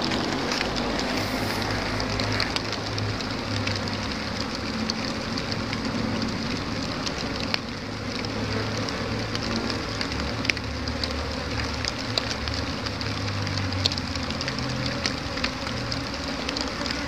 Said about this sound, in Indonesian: karena kebetulan ini lagi hujan juga nih kawan-kawan